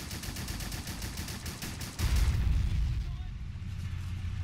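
Tank gunfire in the war game Men of War Assault Squad 2: a rapid train of sharp shots followed by a heavy booming blast with a lingering low rumble, while players talk over the action.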